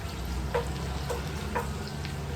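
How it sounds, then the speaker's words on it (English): Steady sizzling and crackling of chorizo frying in a hot pan and releasing its fat, with a few soft scraping stirs at regular intervals. "So I am frying the chorizo"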